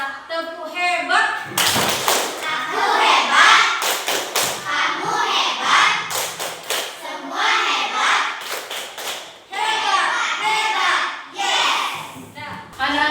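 Schoolchildren in an Indonesian classroom doing the rhythmic 'tepuk hebat' class clap, a series of patterned group claps and slaps mixed with the children chanting along in unison.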